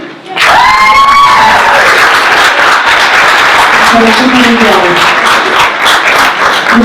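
An audience applauds an animal shelter with sustained, dense clapping and a few cheers, loud and full right from the start and holding steady.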